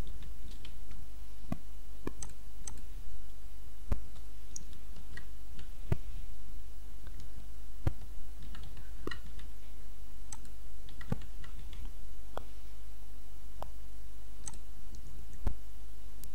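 Sparse, sharp keyboard clicks and taps land at irregular intervals while a new router username and password are typed in, faint and close over a steady low hum.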